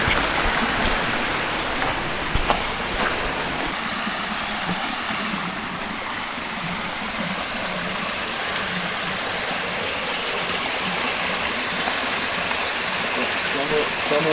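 Muddy stream water, clouded after rain, flows in a continuous broad rush that stays loud and even from start to finish, with no clear voices above it.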